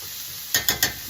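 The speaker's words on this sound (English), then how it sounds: "We're going to stir fry these for just a few minutes" Three quick clattering stirs of vegetables and garlic in a hot pan, close and sharp, over a faint background sizzle.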